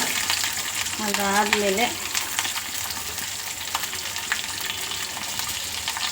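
Green chillies fry in hot oil with a steady close sizzle throughout, and a brief stir scrape partway through; a voice says a single word near the start.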